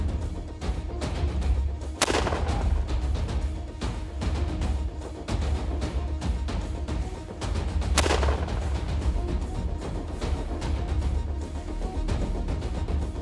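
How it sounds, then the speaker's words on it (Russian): Two loud rifle shots ring out during a moose hunt in Kamchatka, one about two seconds in and another near eight seconds, each a sharp crack set against steady outdoor background noise. "Оба выстрела достигли цели."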